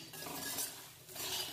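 A spoon stirs roasted, crisp makhana (fox nuts) through a mixture in a bowl, giving a steady run of light clinks and dry rustling scrapes close by, with no talking.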